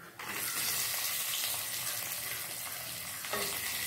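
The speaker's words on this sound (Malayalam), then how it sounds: "ഇളക്കി കൊടുക്കാം" Onions frying in oil in a pan while being stirred for a coriander leaf and gram dal chutney, a steady close sizzle with scraping stir movements throughout, no talking.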